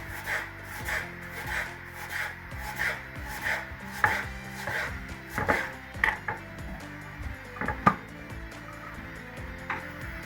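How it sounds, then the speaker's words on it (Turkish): A knife slices onion into long strips on a cutting board in irregular clusters of close, crisp taps, with scraping between strokes and no talking. "Soğanla çok küçük doğramayacağım."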